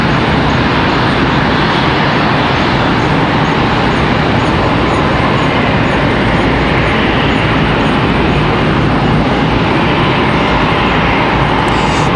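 A Lufthansa Boeing 777 jet from Dallas takes off for Munich at Charlotte Douglas International Airport, its engines a loud, steady, broadband roar that holds at full strength across the whole stretch.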